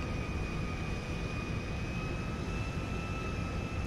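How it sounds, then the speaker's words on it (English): A Boeing 707 airliner in GTA 5 taxis toward the runway, its jet engines producing a steady loud roar with a thin constant whine above, alone without talk. "So let's proceed to taxi out to the runway."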